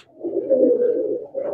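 Black Horse Teddy pigeons in a large Pakistani pigeon loft give a close, low rolling coo that swells, dips briefly, then resumes.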